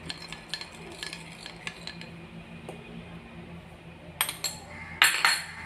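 Cornflour mixed in milk being stirred into a vessel of milk for mango pudding, with rhythmic spoon clinks and scrapes against the pot, close, building to louder metallic knocks near the end.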